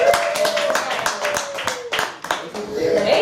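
A small audience at a cooking talk claps in a brisk burst of individual hand claps, with a voice running alongside.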